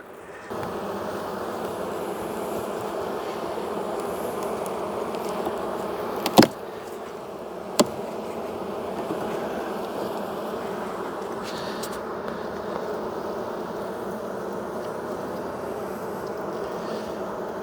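Honey bees hum at the hive in January, a constant close buzzing drone with a couple of sharp clicks partway through and no one talking.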